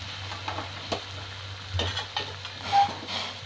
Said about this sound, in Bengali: এবার আমি গরম জলটা ঢেলে দেবো।